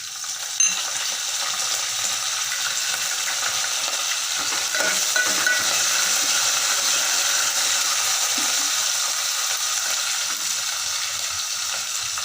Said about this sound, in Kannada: ಸ್ವಲ್ಪ ಫ್ರೈ ಮಾಡ್ತೀನಿ. ಕರಿಬೇವು